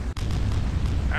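In the video game Tribes, a destroyed generator erupts in a single deep, booming explosion, loud and close, followed by a low rumbling tail.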